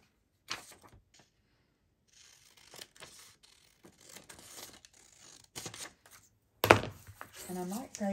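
Paper ephemera being cut down with scissors, scattered close snips and rustles that become a louder burst of cutting and crinkling near the end, with a voice talking in between.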